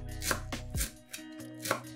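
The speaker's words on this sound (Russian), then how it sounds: "Берем пучок петрушки и укропа и мелко шинкуем его ножом." A knife chops through a bunch of fresh parsley and dill on a board, giving several sharp, close strikes in an uneven rhythm, each with a short crisp thud.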